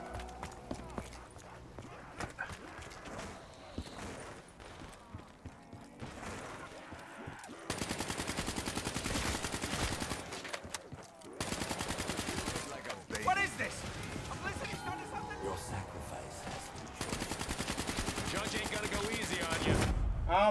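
Rapid gunfire from Call of Duty Zombies on the Shadows of Evil map, dense bursts of shots that run nearly nonstop through the clip, loud and close, with game sounds mixed in.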